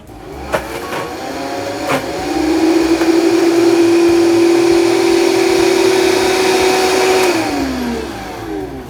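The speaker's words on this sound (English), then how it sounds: "puree it with some of our brown butter" A blender spins up and purees roasted butternut squash with brown butter, a loud steady whirring motor that holds for several seconds before winding down.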